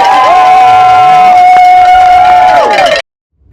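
A crowd cheers and whoops for ultra trail runners arriving at the UTMB race, loud and sustained with a steady whistle-like tone over the noise before it cuts off abruptly.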